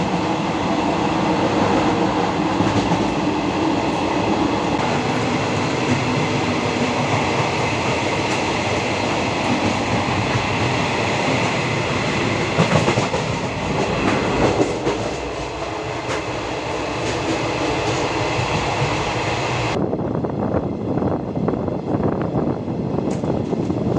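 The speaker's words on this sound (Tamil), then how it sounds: "லாங்கஸ்ட் ரன்னிங் கரீப் ரத் எக்ஸ்பிரஸில் தான் இன்றைக்கி நம்ம ட்ராவல் பண்ணிகிட்ருக்கோம்" Garib Rath express on the Chennai to Nizamuddin run, heard from inside the coach: a loud, steady rumble and rattle of the moving train with rhythmic wheel clatter, continuous throughout, with a change in tone near the end.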